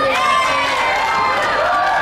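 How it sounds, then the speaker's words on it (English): Loud wrestling crowd at the Colonial Theater during a pro wrestling show: a steady wall of roaring and cheering, with shouted voices rising through it, and no break throughout. "This crowd is loud."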